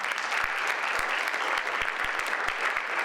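Folktale storytelling audience applauds the storyteller Michael with sustained even clapping, a few sharper individual claps standing out near the front.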